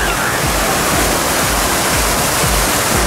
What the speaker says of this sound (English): You can see this fountain behind me.